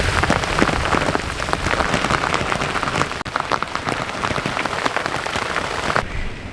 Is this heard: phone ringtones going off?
no